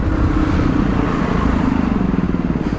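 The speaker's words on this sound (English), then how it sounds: "It's got a Honda GY6 125 licensed engine in it" A Sinnis Matrix 125cc four-stroke motorcycle with a Honda GY6-licensed engine, ridden on the road, drones steadily and loudly with a pulsing, continuous engine note and no talk.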